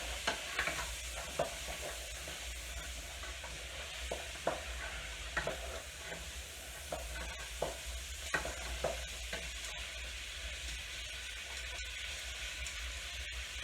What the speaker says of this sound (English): Just give it a quick stir around.